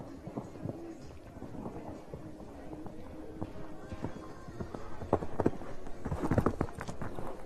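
A 9-year-old gelding by Douglas VDL jumps an adult show course, with soft, irregular hoofbeats on footing that grow louder and heavier toward the end, over light outdoor wind.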